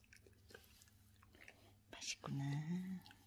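A German Shepherd chews a hard treat with faint, close crunches and bites, followed by a brief louder tonal vocal sound near the end.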